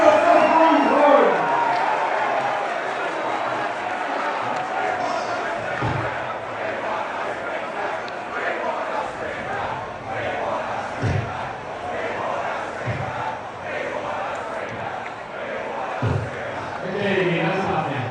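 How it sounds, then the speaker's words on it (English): Australian soccer fans gathered in Tumbalong Park, Sydney, for Australia v Egypt fill the air with sustained crowd noise and scattered cheers and whoops, with a few thumps mixed into the steady roar. "Hey, let's keep cheering the Socceroos, folks."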